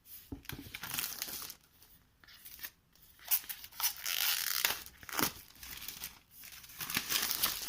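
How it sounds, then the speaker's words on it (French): Plastic shrink wrap crinkling and tearing as it is pulled off a Pandemic Legacy board game board, close and irregular bursts of crackling with brief pauses. "Le plateau. Eh bien, qui est sous plastique là, donc je vais aller l'ouvrir."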